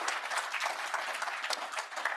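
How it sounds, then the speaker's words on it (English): An audience applauds at a First Nations police governance conference, with steady, even clapping that fills the room for a couple of seconds at moderate volume. "So let's give them a round of applause."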